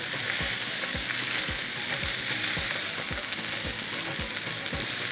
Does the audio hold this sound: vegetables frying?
yes